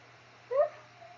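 A cat in The Sims video game gives a single brief meow, fairly soft and close, over quiet background hum.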